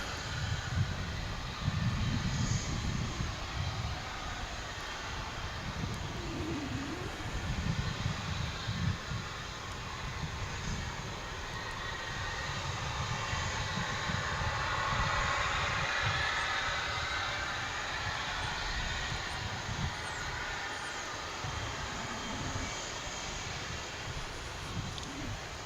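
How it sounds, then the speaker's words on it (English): An arriving flight from El Paso passes at DFW Airport as a long, steady, distant jet rumble and rush that rises gently toward the middle, with faint wind-like noise throughout and no talking. "here comes the flight from El Paso"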